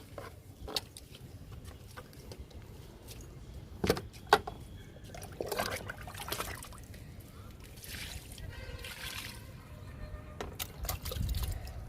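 Liquid is poured onto potted plants in the sun, with faint splashes, trickles and drips coming and going amid quiet handling noises and light background sounds.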